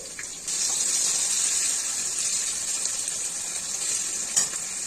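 Potatoes dropped into hot oil for a drumstick vegetable dish, a bright, loud, continuous sizzle that flares up after a brief quieter start and stays steady with a faint clatter near the end.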